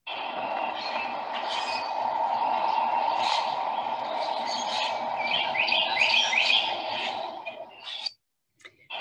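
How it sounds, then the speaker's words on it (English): Common grackles squawk and chatter repeatedly in a muddy, flooded backyard, their harsh calls layered over a steady low hum before cutting off near the end. "all that squawking. You go, those are common grackles."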